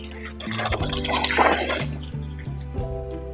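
Hose running water into a rental travel trailer's fresh water tank, a steady rushing, gurgling fill with a low hum underneath, close and moderately loud for a few seconds with no talking.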